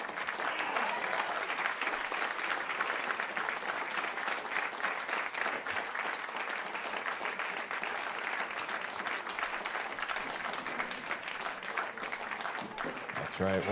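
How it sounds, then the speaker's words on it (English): Sustained crowd applause at Dizzy's jazz club for saxophonist Eddie Harris at the close of a celebration set, even dense clapping that continues throughout, with a few indistinct voices and cheers mixed in. "Keep those applause going for Eddie Harris"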